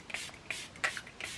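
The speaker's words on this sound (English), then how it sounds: "I'm just going to set it again with the spray that I used at the start" Makeup setting spray misted onto a face in a few short, soft hissing bursts spaced about a third of a second apart, faint and close with no talking.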